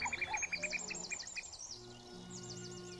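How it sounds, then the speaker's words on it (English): Female cuckoo over a fen giving a rapid bubbling cry, a quick run of high trilled notes, fairly faint against other soft bird chirps and background hiss. "makes a strange, seldom heard, bubbling cry"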